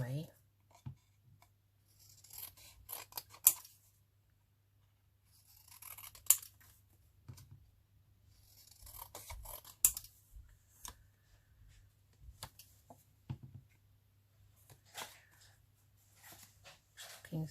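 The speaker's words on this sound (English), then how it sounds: "I'm going to just cut it out anyway" Scissors cut paper for a collage in a quiet room, a series of separate crisp snips and rustles spaced a few seconds apart, with a dog panting and whimpering softly now and then.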